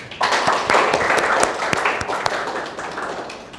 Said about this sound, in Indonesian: Tepuk tangan dulu buat kelompoknya.